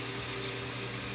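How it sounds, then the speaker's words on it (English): Washing machine hot water fill valve letting water rush in, a steady, loud hiss with a low hum underneath, unbroken throughout. "hot water fill valve."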